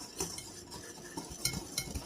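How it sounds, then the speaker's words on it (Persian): Spoon stirs flour, baking powder and salt together in a bowl for apple cinnamon pie, producing faint, scattered clinks and scrapes at close range. "اول این مواد رو با هم به هم میزنیم"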